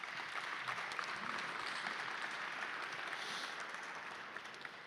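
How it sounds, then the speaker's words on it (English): An audience claps at a conference panel as the panelists walk up to the stage; sustained, fairly soft applause that tapers slightly toward the end. "Please give them a round of applause."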